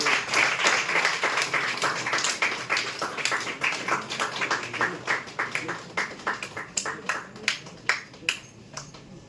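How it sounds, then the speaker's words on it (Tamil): A crowd applauds at a film audio launch event with catering on hand, starting as a dense burst of clapping that thins into scattered, distinct claps with a clear beat before fading. "எல்லாரும் கைத்தட்டி அவங்களை உற்சாகப்படுத்தலாம்."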